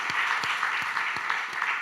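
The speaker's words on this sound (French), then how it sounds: "Je vous demanderai d'applaudir bien fort nos 4 speakers." Conference crowd at Web2day 2019 in Nantes clapping for its four speakers, a thick, continuous round of applause from many hands, close and fairly loud, with a few sharper individual claps standing out.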